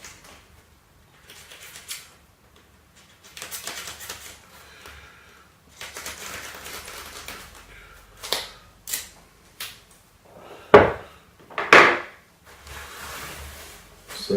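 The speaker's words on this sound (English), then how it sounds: "I'm going to slice the tape off." Tape being sliced and peeled off at the wing root of a Wildthing 60 sailplane from Soar Ahead Sailplanes during its build, heard as a few sharp, close cutting and ripping strokes near the end amid quieter handling noises.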